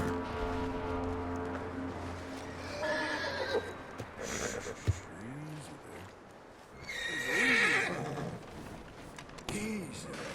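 Horses in the Red Dead Redemption 2 video game whinny and neigh loudly several times, with hoof clip-clops and a faint voice in the background.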